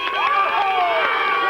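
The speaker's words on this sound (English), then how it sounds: "You can hear the crowd" A football crowd at a grand final between Brooklyn Tigers and Boat Harbour Blues roars and cheers after a goal, a brief sustained swell of distant noise with excited voices.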